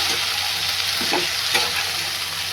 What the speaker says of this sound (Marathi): ही भाजी आता मी त्याच्यामध्ये टाकली. भाजी व्यवस्थित परतून घ्या.